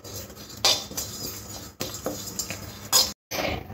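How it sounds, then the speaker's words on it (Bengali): Radhuni and fennel seeds dry-roast in an empty pan, stirred with a utensil that gives close scraping and metallic clinks in short bursts, with a brief silent gap near the end. "শুকনো খোলায় এটা হালকা করে ভেজে নিতে হবে"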